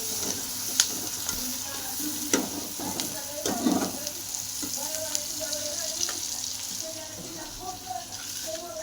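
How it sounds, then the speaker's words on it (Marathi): Onion frying in oil alone in a pan, a steady close sizzle broken by occasional stirring scrapes and knocks, with a voice talking faintly underneath. "कांदा चांगला तेलामध्ये फ्राय करून घेते"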